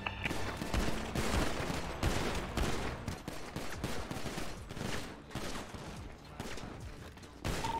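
Shotgun blasts and other gunfire ring out in a chaotic GTA V NoPixel roleplay firefight, with many loud, dense shots arriving in rapid bursts across the whole stretch.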